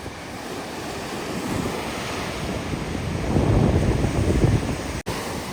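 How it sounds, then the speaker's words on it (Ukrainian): Surf on a stormy sea at Palanga rolls in and breaks on the shore under a red flag, swelling louder midway, with wind buffeting the microphone throughout. "Послухаємо хвилю, червоний прапор, купатись заборонено"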